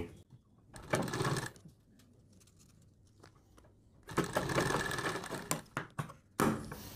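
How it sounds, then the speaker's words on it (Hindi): Sewing machine stitching two buckram neck pieces together for a suit neckline, running in loud close bursts separated by quieter gaps with small handling clicks. "अब यहाँ पर भी जो दो पीस है इनको यहाँ पर सिलाई लगाकर जोड़ देंगे"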